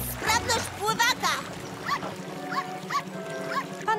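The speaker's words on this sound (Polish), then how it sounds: "Panna słodka szprotka strasznie szczeka." A small dog in a Fireman Sam cartoon gives a run of repeated, high-pitched yaps over splashing water, with a voice talking at the start.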